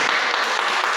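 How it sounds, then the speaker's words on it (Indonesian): Children clap together in an elementary school classroom during an Indonesian language lesson, a dense, steady burst of applause lasting about a second. "tepuk tangan dulu"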